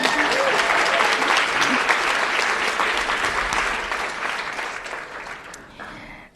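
An audience at the Harvard Kennedy School Class Day awards bursts into sustained applause for an honoree, dense clapping from a large crowd that holds steady and then tapers off toward the end.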